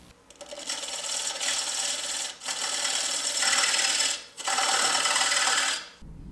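A lathe tool cutting the tenon off the bottom of a wooden bowl, a loud, bright scraping hiss in long sustained passes broken by brief pauses, close and alone.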